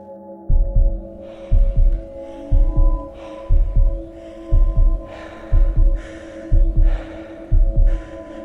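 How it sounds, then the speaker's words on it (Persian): A slow, heavy heartbeat thuds in evenly spaced double beats beneath a low droning hum and faint breathy rasps, a tense horror-story sound effect that repeats eight times with no voices. "فقط صدای تپش قلبم و نفس کشیدنم بود"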